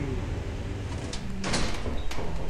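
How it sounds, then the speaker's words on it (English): A door opens in the co-op horror game Lethal Company, a short sliding swish with a faint mechanical rasp heard over a low background hum, fairly close and moderately loud. "Door."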